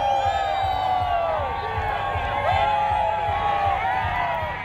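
A large crowd of protesting teachers boos and shouts at the state Assembly in a public square, a sustained roar of massed voices with whistles and jeers rising and falling, fairly close and continuous throughout.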